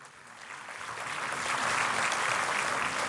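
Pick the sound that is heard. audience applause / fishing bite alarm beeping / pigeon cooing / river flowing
audience applause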